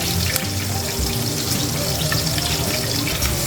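Finely chopped garlic fries in melted butter in a pan, giving a loud, steady, close-up sizzle that crackles without pause throughout.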